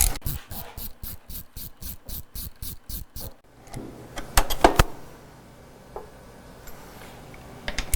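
A ratchet drives a 13mm socket on the bottom shock mounting bolts of a rear shock absorber, giving a fast run of even, close clicks for a few seconds, then scattered metallic clinks and handling noises.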